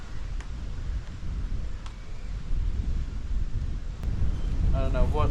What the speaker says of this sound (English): the wind just picked up to hell